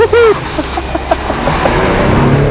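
A 2020 Ford Explorer ST with a 10-speed automatic and 415 lb-ft of torque revs and accelerates, its engine note rising in pitch and breaking off at a quick gear change before continuing under steady road rumble.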